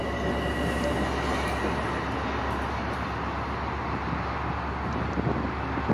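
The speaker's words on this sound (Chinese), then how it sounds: "VVVF 的电机启动声" An MNRR M7A electric train on the Hudson Line in Train Simulator 2019 starts its VVVF traction motors, a steady mechanical drone with faint rising tones and rail noise throughout, no talking.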